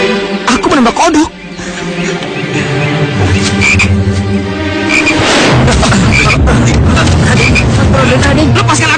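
Loud frog croaking fills the scene after a few dull thumps near the start, a dense close chorus continuing steadily while voices speak faintly beneath.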